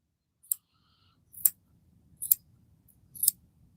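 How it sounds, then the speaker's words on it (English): Small scissors snipping the fur of a chocolate agouti Giant Angora rabbit, four crisp separate cuts spaced about a second apart, close and clear over quiet rustling. "I like my little scissors for the delicate work back here."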